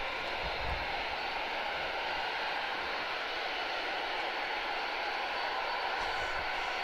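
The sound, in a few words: Starlifter aircraft engine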